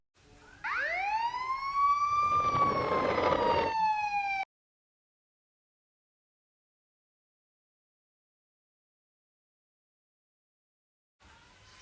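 A police car siren wails loudly and steadily, rising and then sliding down in pitch over a few seconds with no voices, before cutting to silence.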